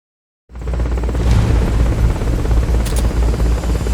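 Helicopter rotor thumping steadily in the video game Metal Gear Solid Peace Walker, starting abruptly after a brief silence and holding loud and close throughout, with a faint high whine above the deep chop.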